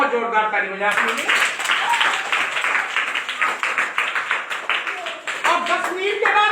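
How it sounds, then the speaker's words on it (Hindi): An audience gives a burst of loud clapping during a talk about the number zero, lasting several seconds between bits of a man's speech. "जोरदार ताली बजा दीजिए।"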